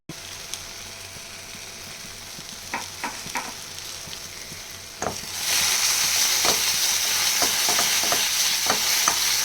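Food frying in a pan, seasoned with salt and sugar, stirred with a series of scraping clicks over a sizzle that swells louder partway through, close and alone.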